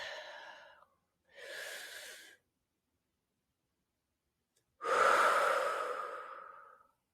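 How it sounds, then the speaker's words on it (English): Deep breathing heard up close: a short exhale, then an inhale, a long pause of silence, and finally a long, loud, drawn-out breath out. "let's take a breath"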